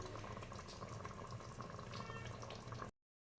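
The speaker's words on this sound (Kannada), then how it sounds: "ನೋಡಿ ಕುದಿ ಬರ್ತಾಯಿದೆ" Avarekalu (field bean) sambar bubbles in a pot, a dense, steady crackle of boiling close by that cuts off abruptly into silence after about three seconds.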